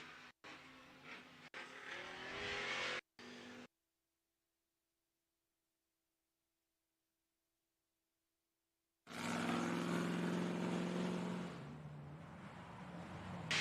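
An Ultra 4 off-road race car engine roars loud and close, breaks off into roughly five seconds of silence, then returns as a harsh, sustained, high-revving drone.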